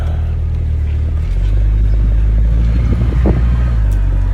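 Pontiac Sunbird GT Turbo driving on the road, a steady loud low engine and road rumble that swells and thickens after the first second as it pulls along, with no voices over it.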